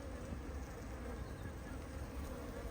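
Honeybees on a hive frame hum in a dense, continuous drone close up during a hive inspection, faint but steady throughout.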